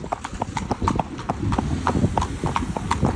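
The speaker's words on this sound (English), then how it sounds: "We trotted through and it still just turned as we got through" Horse hooves trotting on a main road, a quick, even clip-clop of hard strikes on tarmac, close and continuous with a faint background hum.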